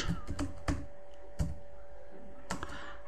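Someone types a professional profile title on a computer keyboard: a quick run of crisp, close key clicks, a short pause, then a few more taps.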